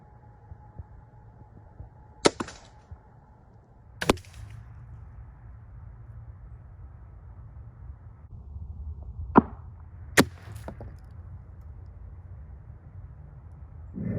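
A Barnett Stalker 380 crossbow shoots at targets outdoors, giving four sharp, isolated snaps spread over several seconds against a quiet background with no talking.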